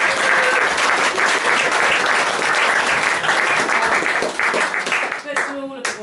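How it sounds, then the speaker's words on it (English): A roomful of guests at a Burns Supper breaks into loud, sustained applause with some cheering, close and dense before it thins near the end. "I have to give another round of applause."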